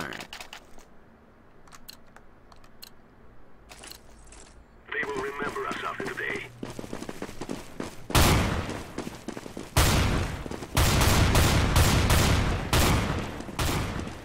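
Bursts of video game gunfire crack in rapid volleys, sparse and quiet at first, then loud, dense fusillades in the second half, with a player talking between shots.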